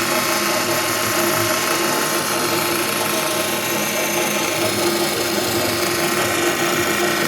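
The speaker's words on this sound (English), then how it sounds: "Don't have any really bearing noise, but I got some belt noise." Steady mechanical whirring and rattling from a running drill press, with a continuous loud belt clatter, no bearing noise, and no voices.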